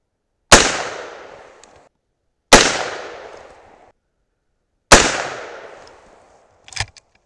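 Three sharp, loud shots from a Henry Big Boy lever-action in .357 Magnum firing powder-coated 158-grain bullets over Alliant 2400, spaced about two seconds apart, each ringing out with a decaying echo, followed by a faint metallic clatter.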